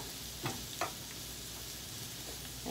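Spring onion and chili pepper frying in oil until golden for machaca, a soft, steady sizzle with two brief scraping stirs near the start.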